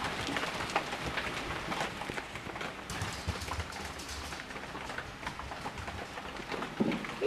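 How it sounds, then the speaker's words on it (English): Steady rain falls outside an open door, a dense, even patter of drops on surfaces that lasts throughout at moderate loudness, with no voices. "Here comes the rain."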